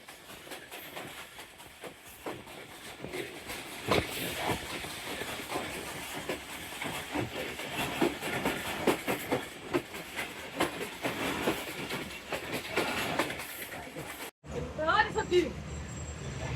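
A passenger train runs on the Lahore–Narowal line after leaving Narang Mandi station, with a continuous rumble, hiss and faint wheel clatter from inside the carriage, broken by a brief dropout near the end, while a voice talks over it.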